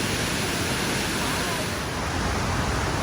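A powerful, steady roar of rushing water fills the space, loud and unbroken from a tall waterfall nearby in Spain's Ordesa Valley.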